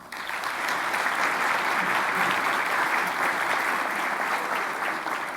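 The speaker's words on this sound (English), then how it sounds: "Please, another round of applause." A crowd at an education awards celebration gives award winners a steady round of applause. The dense clapping swells in quickly and holds at a constant level, alone and unbroken.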